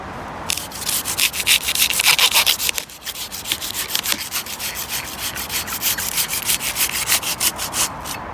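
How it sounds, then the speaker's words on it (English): A hand saw cuts through a fallen tree in a garden, its rapid rhythmic rasping strokes loud and close, with a brief pause partway through before sawing resumes. "So here is the tree, and will I have the oomph to saw it?"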